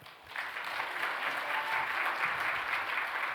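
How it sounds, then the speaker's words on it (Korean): A congregation at a revival meeting applauds to welcome a guest pastor: steady, dense clapping from many hands fills the room, holding at an even level throughout with no talk over it. "우리 강사 목사님 또 환영의 박수로 맞이하도록 하겠습니다."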